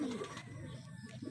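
Racing pigeons make soft, low cooing calls at close range in a quiet, faint setting, a brief murmur with no talking.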